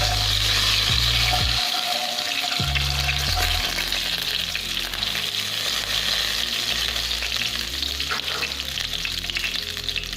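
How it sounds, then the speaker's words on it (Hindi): Continuous loud sizzling of spices frying in oil for chicken karahi, a dense crackling hiss that holds steady throughout with low rumbling underneath. "अब हम इसको हल्का सा फ्राई करेंगे।"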